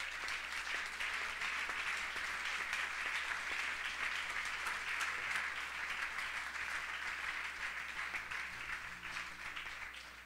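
A church congregation applauds steadily, a dense, even wash of many hands clapping at moderate distance, tapering slightly toward the end.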